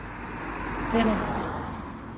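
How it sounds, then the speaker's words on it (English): A single car passes on the road, its engine and tyre noise swelling to a peak midway and then fading, over a constant low background rumble. "wait to see if I can go past this car."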